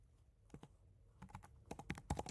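Fingers tap on a computer keyboard nearby, a few isolated key presses and then a quicker burst of typing, fairly faint and with no voice over it.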